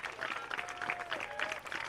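Crowd clapping in the stands at a high school baseball playoff game between Wetumpka and Pike Road: faint, distant, steady applause that holds without a break, with a thin whistle-like tone drifting over it.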